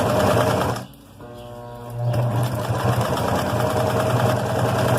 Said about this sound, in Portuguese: Ao redor do velcro, eu vou vir e vou costurar.